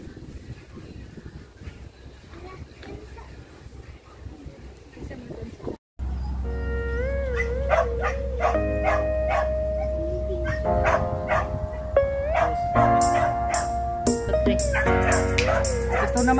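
A dog at a rural provincial home yips, whimpers and barks in excited bursts, loud and close, with people talking over it.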